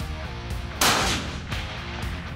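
A single sharp rifle shot fired at a playing card set at 200 yards on an outdoor range, a loud crack followed by a short decaying echo, with another fainter report shortly after.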